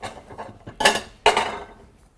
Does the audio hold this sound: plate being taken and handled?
yes